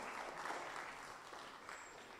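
An audience applauds steadily as two patients walk up onto the stage at a hospital open day, a soft, dense wash of clapping that stays even throughout.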